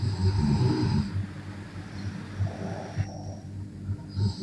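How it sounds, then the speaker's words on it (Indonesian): A person snores loudly over an open microphone during an online call, with heavy rasping inhalations in slow repeated cycles that stand out near and dry, with no talk. "di mute itu ngorok tuh"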